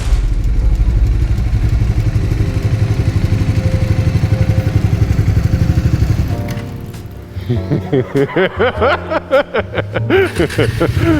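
A motorcycle at a riding school hums steadily at a close, loud idle, then revs up and down in rising and falling engine sweeps, with a brief voice over the engine.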